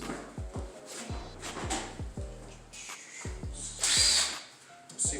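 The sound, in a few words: impact gun removing go-kart seat bolts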